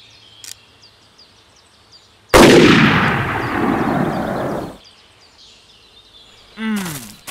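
Rifle gunshot in the hunting game Hunting Unlimited 2008: one loud, sharp shot that rolls off in a long echo over quiet outdoor ambience with faint bird and insect calls, then a brief chirping call near the end.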